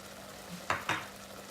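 Chicken cooking in a pan over medium heat for spring rolls, with two brief scraping stirs a moment apart over a faint, steady background hiss.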